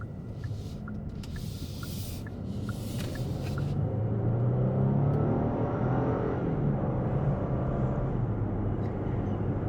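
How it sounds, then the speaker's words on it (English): A 2023 Genesis G90 with a 3.5-litre turbocharged e-supercharger V6 and all-wheel drive accelerates, a low, steady engine hum and road rumble rising and swelling from inside the cabin, with faint ticking chimes early on. "You have a little bit of engine noise there and shifting gears and all that."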